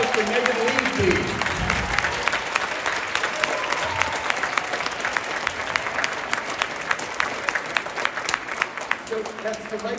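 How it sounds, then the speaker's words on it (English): Sustained applause from a concert audience after a young pianist's performance of Saint-Saëns' Piano Concerto No. 2, dense steady clapping throughout with a few faint voices mixed in. "Let's have a big round of applause for Megan Lee, please"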